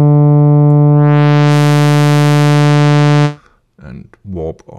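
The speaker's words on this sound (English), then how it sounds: "And warp our sine wave into a sawtooth." Bazille synthesizer tone using phase distortion, a steady sine wave warping into a bright sawtooth over about three seconds, loud and sustained, then cutting off before a brief spoken voice.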